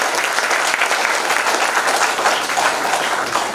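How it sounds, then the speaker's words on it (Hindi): Loud, sustained applause from a large crowd at a company meeting, dense and even throughout with no pauses. "तो एक बार जोरदार ताली हो जाए।"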